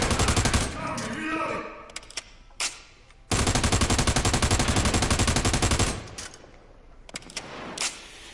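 Gunfire in the video game Ghost Recon Wildlands: loud bursts of rapid automatic fire, including one long sustained burst, interspersed with single shots and short volleys, close and dominant.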